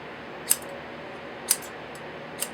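Freshly sharpened 8-inch bevel-edge scissors make three crisp snips about a second apart, each a sharp, thin metallic click against quiet background hiss.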